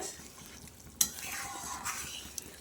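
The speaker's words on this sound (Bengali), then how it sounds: "তরকারিটা ফুটছে" Fish roe curry with potato and pointed gourd bubbles in a pan with a soft, continuous simmering hiss. A single clink of a utensil comes about a second in, and a fainter tick follows near the end.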